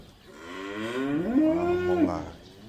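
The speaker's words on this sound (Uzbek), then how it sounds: "Mollar qarang, jonivorlar. Simentalni qarang, simental." A Simmental cow at a livestock market lets out one long, rising and falling moo, close and clear over faint background noise.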